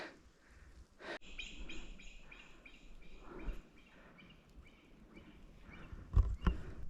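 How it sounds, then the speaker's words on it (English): Himalayan monal calls ring out on a mountain trek in the Great Himalayan National Park over a steady outdoor hiss, with breathy sounds nearby and a sharp rustle at one point. "I saw one of the most beautiful birds just now. I'm sure the sound would have been recorded."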